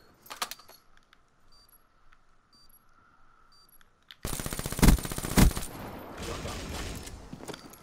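Gunshots in a video game break out after a quiet stretch with faint clicks, a loud fast burst of repeated shots with two heavier booms, then trailing rattling fire.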